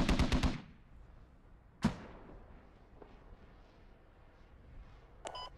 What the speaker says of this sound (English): AMRAP's firing southwest